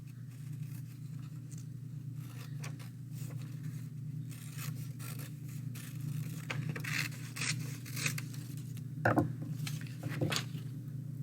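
Scissors cut through folded paper in a quiet room, faint scraping snips and rustles in an irregular rhythm, with a few louder crisp cuts near the end.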